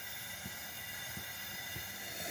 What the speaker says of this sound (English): Camp coffee water is now boiling.